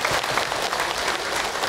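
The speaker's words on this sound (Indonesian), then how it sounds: "tepuk tangan untuk Abi Ibu" A brief burst of audience clapping for Abi and Ibu at an Islamic talk, a steady, fairly loud patter of many hands throughout.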